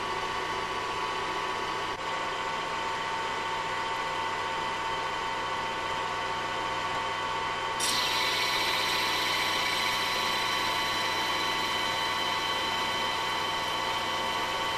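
A metal lathe makes a facing cut under automatic feed, giving a steady close machine hum with a constant whine that brightens partway through and continues without pause.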